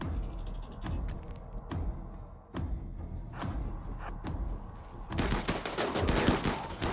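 Units shooting in a video game: bursts of rapid gunfire and heavy thuds, loud and close, ending in a denser, sustained volley.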